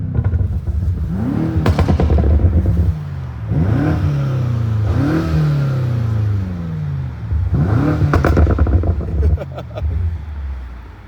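A 2019 BMW M5 Competition engine revs repeatedly, rising and falling in several loud, close pulls, with sharp exhaust crackles and pops after some of the revs and a voice speaking in between.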